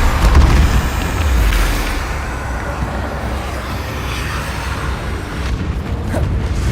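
A Bombarda spell detonates in the Hogwarts Legacy video game: a heavy, booming blast up front that fades into a long rumbling, crackling tail of debris and noise.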